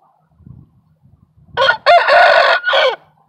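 A rooster crows once loudly and close, a long drawn-out call in a few rising and falling segments, after some faint low rustling and scuffing.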